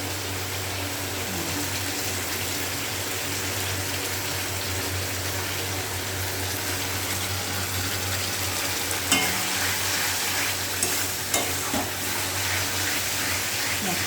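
Meat masala being sautéed in a pan, a steady close sizzle with scraping stirring strokes and a couple of sharper clinks of the spoon against the pan.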